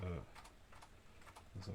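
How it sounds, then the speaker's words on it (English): Soft clicks of typing on a computer keyboard during a programming session, with someone speaking over and between the keystrokes. "I'm going to run screen keys, so you can see my keys as I'm"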